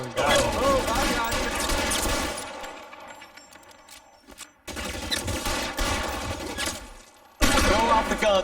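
Gunfire from the LA Noire video game comes in dense, sustained bursts like a shootout, loud and close, with brief abrupt silences between volleys.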